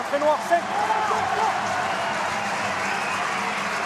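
A rugby stadium crowd applauds a player during a USAP versus Massy match, a broad steady wash of clapping and cheering under a commentator's voice at the start.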